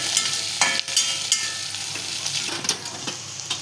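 Chopped onion with green chillies softens in hot oil in a pan for an ivy gourd (tondli) curry, sizzling steadily and loudly with a few scraping stirs of a spoon, no voices.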